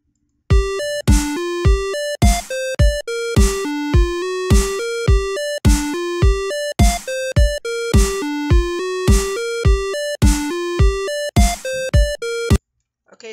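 A tracker-music pattern plays back in MilkyTracker, a steady run of bright, bell-like synthetic notes struck in a regular rhythm, loud and clean, stopping abruptly near the end.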